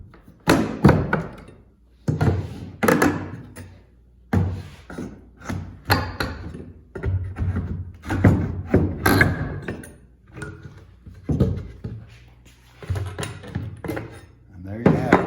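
Prybar working baseboard trim loose from the bottom where it is nailed in two places: repeated knocks, thunks and creaks in irregular bursts, close up, with someone talking in between.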